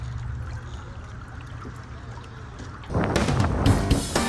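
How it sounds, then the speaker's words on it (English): A steady low hum from a Torqeedo electric motor on an inflatable catamaran dinghy with water noise, then from about three seconds a louder, rougher burst of splashing and rushing water close by, running at full throttle into wind and current. "You can hear the engine a tiny bit now, or the splashing of the water"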